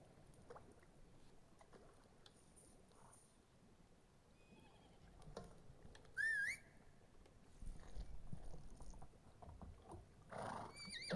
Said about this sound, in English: Yes, I called the horse.